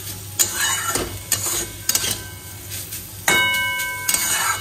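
Banana stem (thor) sautéed in a pan with a little ghee, garam masala and sugar: steady sizzling with repeated scraping stirs and spoon clinks against the pan, close and fairly loud, no voices.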